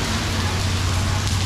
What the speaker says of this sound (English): it is raining, but the water is continuing to come down